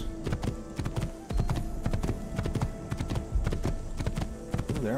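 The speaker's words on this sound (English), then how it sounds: "Final horse riding sequence before the end of the game" A horse gallops in an Assassin's Creed game, its hooves clip-clopping in a rapid, steady rhythm close and loud over a low background hum throughout.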